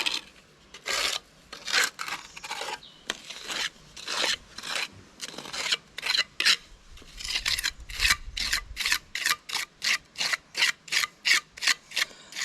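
A trowel scrapes plaster onto a cracked silo wall in repeated rasping strokes, close and fairly loud, speeding into a quick steady rhythm of short scrapes toward the end.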